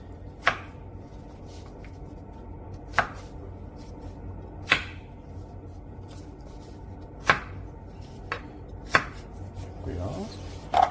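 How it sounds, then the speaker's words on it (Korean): A knife dices carrots into small cubes on a cutting board, producing about seven sharp, separate chops at an uneven pace, close and clear over a quiet background. "그 다음 당근부터는 깍둑 썰기."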